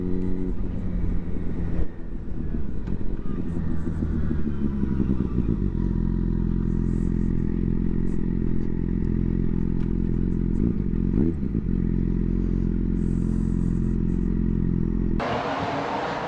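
Motorcycle engines roaring steadily nearby for most of the stretch, a continuous loud rumble with shifting pitch as bikes pass, cutting off abruptly near the end.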